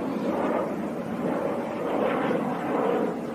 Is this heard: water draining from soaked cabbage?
no